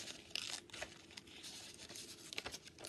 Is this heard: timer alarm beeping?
no